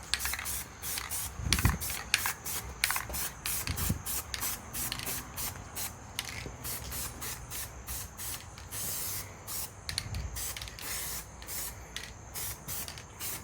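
A thick sealing layer is sprayed from close range over sand on a miniature Dead Marshes tabletop terrain board. The aerosol hisses in rapid repeated bursts, with faint clicks and handling noises underneath.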